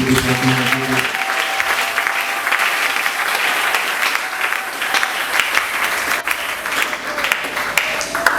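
A church congregation at a Sunday worship service claps loudly and continuously to acclaim the Lord, a dense, sustained applause from a full room with crowd noise mixed in.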